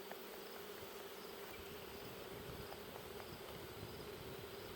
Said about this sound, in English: The lost bees that are flying around here, they'll eventually probably just go back into one of those hives.